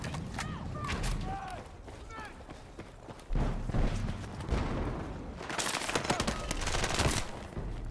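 Bursts of Battlefield 6 gunfire crackle through the match, a heavier volley around the middle and a louder run of shots near the end, while a player talks over the shooting.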